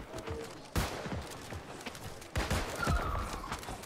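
Video game gunfire in a competitive match, rapid bursts of shots crackling in two quick flurries, moderately loud and close.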